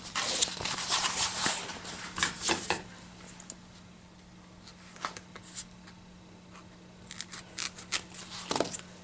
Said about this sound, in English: Just simply pull up your pin and cut another piece.